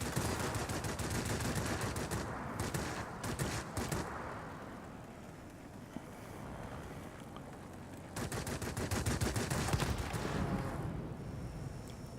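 Yak-19 jet fighter guns fire in a flight combat game, with several sustained bursts of rapid gunfire, steady rumbling engine noise between volleys, and a long final stretch of firing.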